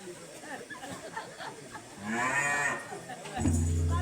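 A buffalo gives a long, drawn-out moo in the middle of the clip, fairly close and clear, with quieter background sounds before and after.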